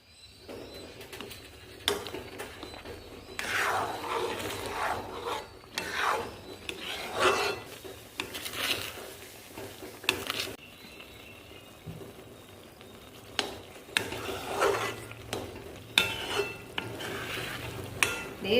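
A thickening Bombay halwa is stirred in a pan with cashews, almonds and pistachios, the spoon scraping and rubbing against the metal in repeated close strokes, with intermittent louder scrapes and no talking.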